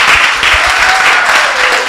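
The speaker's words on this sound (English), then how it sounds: "let's give them a round of applause again." An audience at a youth forum in St. Ann applauds steadily, a dense wash of clapping that holds loud from start to finish.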